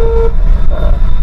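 A car horn gives one short honk during a nighttime driving lesson, sounding close over steady engine and road rumble.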